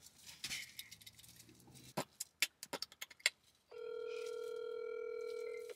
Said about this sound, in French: D'abord, on va appeler Audio. Elle va répondre et tout.